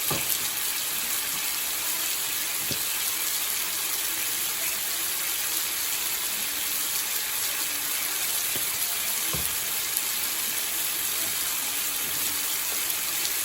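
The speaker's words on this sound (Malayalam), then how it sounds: "ഈ സവോള വഴന്ന് കിട്ടി. അതിൻ്റെ കൂടെ 1 പിഞ്ച് കായപ്പൊടി ഇടുക." Onions sautéing in a pan with a pinch of asafoetida give a steady, close, hissing sizzle that runs unbroken and without voices.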